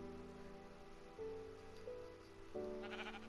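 A sheep in the video game Minecraft bleats in a few wavering, nasal calls at moderate volume, with faint rain-like patter in the background.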